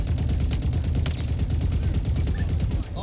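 Rapid automatic fire from guns mounted on a small quad bike vehicle in Halo Infinite, a dense steady rattle of shots running continuously and loudly through the game mix, with faint talk underneath.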